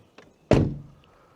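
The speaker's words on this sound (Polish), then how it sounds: "posłuchajcie jak się drzwi zamykają" The door of a VW T5 4Motion campervan fitted with sound-deadening modification shuts with a single solid, muted thunk after a faint click, close by.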